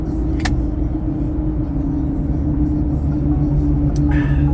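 A car driving on the road in New Jersey traffic, a steady low engine and road rumble that holds even throughout, with no clear rise in pitch and no one talking.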